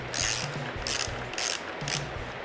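An 8 mm Allen key loosens a handlebar riser bolt on a Ducati Scrambler, giving four short bursts of close mechanical ratcheting clicks with brief pauses between, and no talking.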